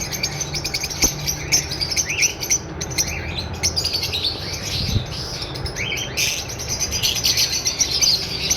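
A breeding pair of blue pastel spritino pet birds chirps near and busy, with rapid, repeated tweets and calls overlapping throughout.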